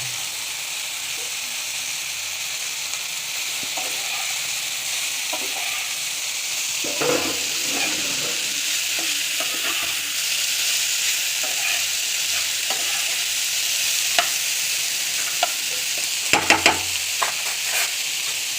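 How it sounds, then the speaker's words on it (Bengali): Chopped onions fry in a hot pan for a bitter gourd and small shrimp dish, a steady close hissing sizzle with occasional stirring scrapes and crackles throughout. "এখন আমি পেঁয়াজ, কুচানো পেঁয়াজ ঢেলে দিব"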